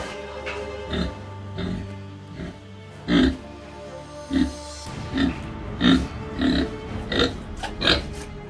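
Outdoor pigs on a Lower Saxony farm in Germany grunt repeatedly at close range, a series of short throaty oinks spaced roughly every second, growing more frequent toward the end.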